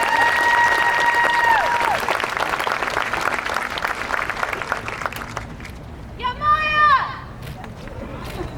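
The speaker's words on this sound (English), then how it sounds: "Let's have a round of applause for Maya Moreland." Steady crowd applause for a graduate at a 2023 graduation ceremony, a dense wash of clapping that fills the clip and eases slightly toward the end as a voice cuts in.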